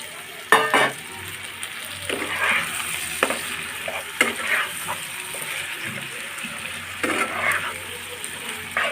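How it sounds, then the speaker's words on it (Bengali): Shrimp for chingri polao sizzling in a pan as they are stirred. Loud frying crackle with repeated scraping stirs, several distinct strokes spaced a second or so apart. "এখন এর মধ্যে দেবো আমি চিংড়ি মাছগুলা"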